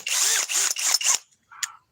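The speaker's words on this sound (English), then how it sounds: "This is their compact hammer drill with a 2 amp stacked lithium battery." A Flex FX1231 compact hammer drill on a 2 amp stacked lithium battery runs in four loud, close bursts with short gaps, then a brief softer whir at the end.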